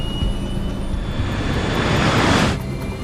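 Continental Airlines jet engines at full takeoff power during a snowstorm departure, a steady loud roar heard from inside the aircraft, with no talk.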